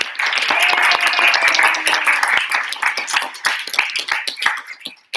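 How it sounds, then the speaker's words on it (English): Audience at a youth environmental summit in Malaysia claps in a dense burst of applause that thins out into scattered, uneven claps toward the end. "Give yourself a round of applause."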